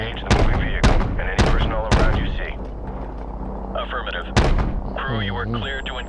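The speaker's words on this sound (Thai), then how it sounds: "เรามาลองใช้ปืนยิงลูกระเบิดก่อน" Repeated heavy booming shots from an AC-130 gunship's grenade launcher in a game, several blasts in quick succession with someone talking over the action.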